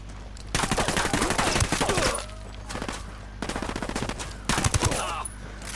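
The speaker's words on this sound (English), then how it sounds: "I'm opening fire." Rapid automatic gunfire rattles in several loud bursts with short gaps between them in the video game Tom Clancy's Ghost Recon Wildlands, a faint voice occasionally underneath.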